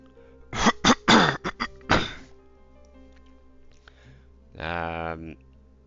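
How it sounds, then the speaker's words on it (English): A few sharp coughs from a gamer at a microphone, bursting in a quick cluster close up, followed after a pause by a brief voiced throat-clearing grunt. "I should probably turn my microphone off if I'm going to cough"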